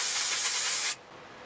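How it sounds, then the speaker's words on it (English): Dry shampoo sprays from an aerosol can onto hair in one close, loud hiss that lasts just under a second and cuts off sharply into near silence. "I'm going to spray a little bit more of dry shampoo"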